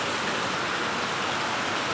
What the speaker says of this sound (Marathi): पाऊस काय थांबायचं नाव घेत नाही.